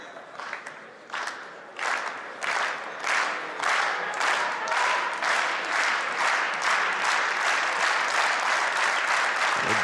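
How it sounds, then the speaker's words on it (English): A crowd applauds at a men's singles final table tennis match at the 2016 Polish Open, the clapping rising from scattered bursts into steady, loud, sustained applause across the whole stretch. "the crowd getting really into this match"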